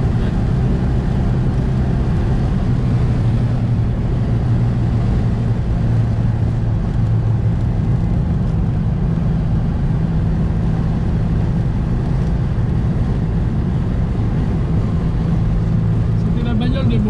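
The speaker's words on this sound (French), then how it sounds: "On entend ce petit moteur de cylindre à 602 cm3 qui ronronne à l'avant." A Citroën 2CV 6 with its small 602 cc two-cylinder engine purrs steadily at the front while driving, a low, even drone running throughout beneath occasional voices.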